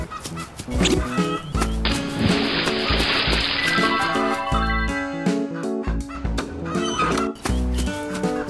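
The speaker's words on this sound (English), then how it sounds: "Chicken." Chicken clucking over a loud, busy backing of music with a steady beat, the clucks repeating in short bursts throughout.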